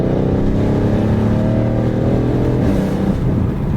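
A tuned Mercedes GLC63 AMG with downpipes roars loudly up close, its engine holding a steady, throaty rev that fills the whole moment without pause.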